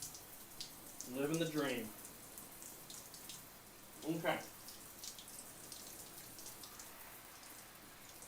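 Shower water runs steadily as a constant hiss, with someone eating a McDonald's burger and fries beneath it. Someone speaks briefly twice over the spray.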